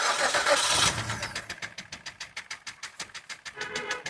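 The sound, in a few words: Maruti Suzuki Baleno 2016 engine starting after service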